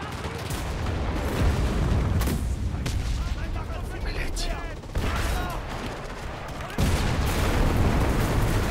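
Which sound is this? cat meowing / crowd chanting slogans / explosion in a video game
explosion in a video game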